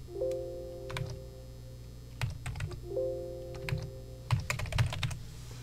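Typing on a computer keyboard to enter part numbers for lock hardware, heard as clustered bursts of key clicks with short pauses between them, fairly close and alone over a steady background hum.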